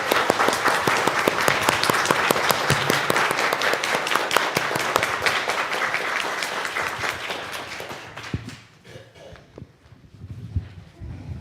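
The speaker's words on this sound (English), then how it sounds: "Let us now show our appreciation to Liz with a round of applause." Congregation at a Sunday flower communion service breaks into sustained applause, dense clapping filling the room for about eight seconds before it thins out and fades to a few scattered claps.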